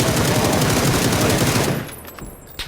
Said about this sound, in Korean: 반대편 능선에서 쏜다